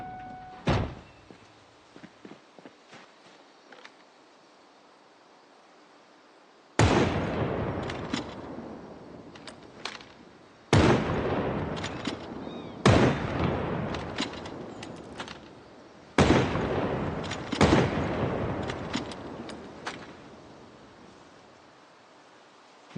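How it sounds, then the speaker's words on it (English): Distant gunshots echo across the map in the survival game Project Zomboid, four heavy booming cracks spaced several seconds apart, each rolling off into a long reverberant tail over quiet ambience. "Thunderous sound of a gunshot from God knows how far away."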